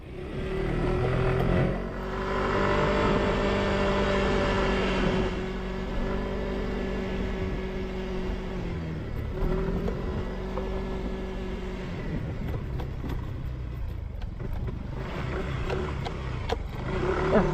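A dirt bike rides along an unfinished bypass road near Cabanatuan City, its engine droning steadily close by with shifting pitch as it accelerates and eases off, alongside wind noise.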